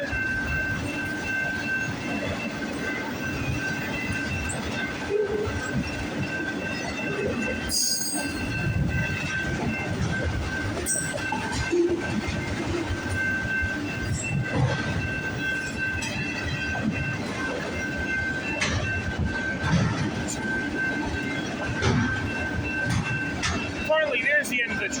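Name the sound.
CN train passing by at a railway crossing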